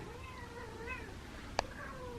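Indoors, a pair of feral cats give several soft, drawn-out meows, faint and slightly overlapping, with a brief sharp click partway through; no speech.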